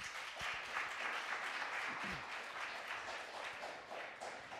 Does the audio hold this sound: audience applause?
yes